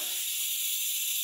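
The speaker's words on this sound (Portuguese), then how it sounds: "aqui já refoguei meu alho." Garlic sizzles in a hot pan while being sautéed for a Brazilian feijoada, a loud, close, continuous bright hiss of frying with no talking.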